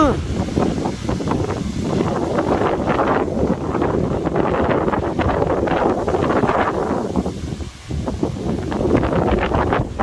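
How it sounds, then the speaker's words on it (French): Strong foehn windstorm gusts near Grenoble roar and buffet continuously, loud, broadband and close to the microphone, with the blustery rush surging and easing throughout. "Il y a grosse tempête du Seigneur, c'est pas possible."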